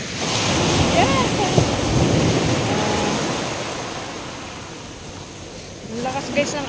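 Strong sea waves surge and crash along the shore at Lobo, Batangas at 5 a.m., a steady roaring wash with wind buffeting the microphone and a voice talking over it.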